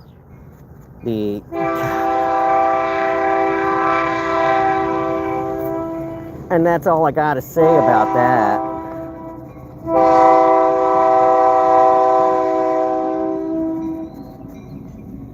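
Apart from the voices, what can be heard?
train horn blowing as a train passes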